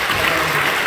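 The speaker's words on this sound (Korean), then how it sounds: "뜨겁게 우리 사랑하고 환영하는 박수 하겠습니다" A church congregation at a Friday overnight worship service in Incheon claps in warm welcome, a dense and loud burst of many hands heard only briefly.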